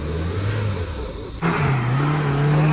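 A modified Mahindra Thar engine revs, a sudden jump in loudness partway through as the pitch climbs and then holds in a strong, steady roar nearby.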